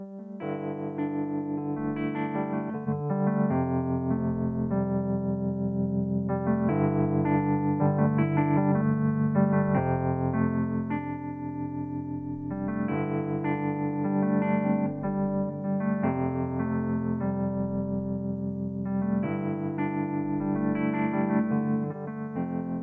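Wurli V software Wurlitzer electric piano chords with a pulsing tremolo and gritty overdrive, playing steadily and loudly throughout with no voices.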